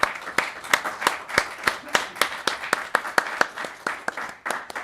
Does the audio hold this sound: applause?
yes